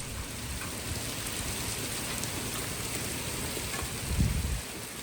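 Heavy rain pouring down on a farm in southern France in a steady, dense hiss, with a brief low rumble near the end.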